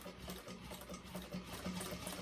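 A sewing machine runs at a steady pace while top stitching a fabric bag, a faint continuous mechanical whir with quick rhythmic needle pulses, heard alone.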